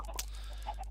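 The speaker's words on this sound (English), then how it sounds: "I think I've let the chickens get a little bit out of control." Chickens in a Minecraft world give a few soft, short clucks over a steady low hum, fairly faint and with no one talking.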